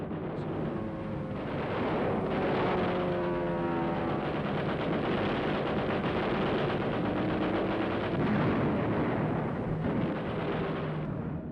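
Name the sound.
WWII Allied aircraft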